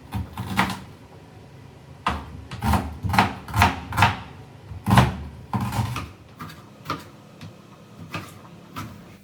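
Tomato, onion and green chilli being cut on a board for fish curry, heard as a series of close, sharp knife knocks in irregular bursts with short pauses between, and no talking.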